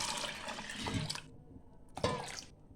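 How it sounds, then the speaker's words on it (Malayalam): Water gushes from a vessel into a pot holding a kilo of chickpeas in two short, close pours separated by a brief pause. "1 കിലോ കടലയ്ക്ക് ഇപ്പോൾ ഇതിന് ഒരു പാത്രം വെള്ളമാണ് ഞാൻ ഇതിലേക്ക് ഒഴിക്കുന്നത്."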